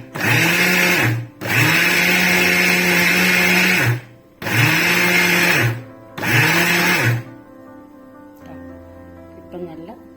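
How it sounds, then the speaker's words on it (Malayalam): A kitchen mixer grinder pulsing wheat flour for puttu: four loud, steady whirring bursts, each lasting one to two seconds with brief pauses between, then quiet clinking and handling noises. "ഇനി ഒന്നുകൂടെ ഒന്ന് പൾസ് ബട്ടൺ യൂസ് ചെയ്ത് ഒന്നുകൂടെ ഒന്ന് അടിച്ചെടുക്കാം."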